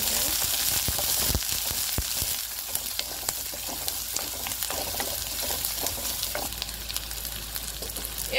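Chopped onion and a dried red chilli fry in hot oil for a Tamil snake gourd kootu, producing a dense, even sizzle broken by small crackles and occasional utensil taps, near and steady throughout with no speech.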